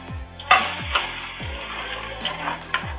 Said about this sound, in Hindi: हमारे सारे मसाले थोड़ा भुनेंगे ताकि इनका कच्चापन निकल जाए